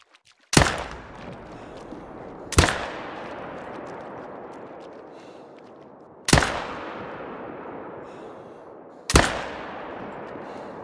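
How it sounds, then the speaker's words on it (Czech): Four loud, sharp hunting rifle shots in theHunter: Call of the Wild, each a sudden crack with a long rolling echo decaying over the next seconds, spaced unevenly across the stretch. "ta první rána nebyla vůbec dobrá"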